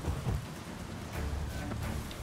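Thunderstorm with steady rain in The Witcher 3 on Skellige: a low rumble of thunder rolls beneath a constant hiss of rainfall.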